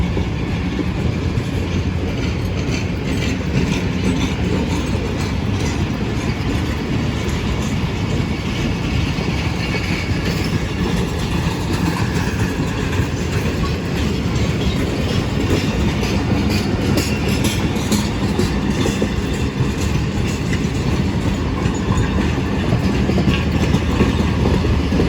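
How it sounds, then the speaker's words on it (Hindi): A ZCU30 diesel locomotive accelerates with the Awam Express near Drigh Road railway station, loud continuous engine roar and rumbling wagons with rhythmic wheel clatter, sustained and close throughout. "ज़बरदस्त एक्सीलरेशन ZCU30 की।"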